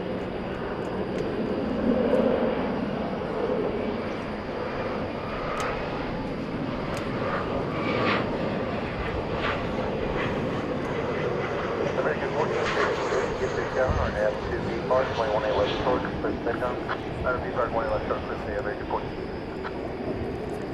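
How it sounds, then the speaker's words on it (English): Boeing 767 jet departs DFW Airport at night, a sustained engine roar heard at a distance with a brief swell, while a person talks over it throughout. "That's another 767. It's going to Louisville."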